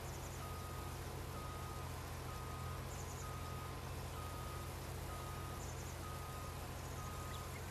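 Farm vehicle beacon alarm in Farming Simulator 19, short regular beeps sounding about once a second at low volume over a constant engine drone, with a faint chime recurring in the background.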